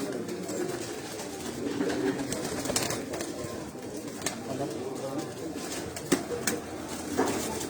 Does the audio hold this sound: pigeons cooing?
yes